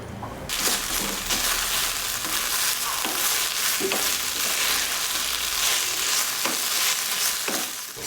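Vegetable Manchurian balls drop into hot oil and fry with a sudden, loud, steady sizzle that continues throughout, broken by a few soft stirring knocks close by, no talking.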